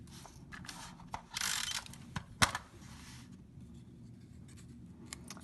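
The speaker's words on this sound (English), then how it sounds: "I'm just going to tape runner this to the back of my card" A tape runner lays adhesive along the back of a paper card, giving soft close clicks and brief dry scraping rasps, quiet and alone.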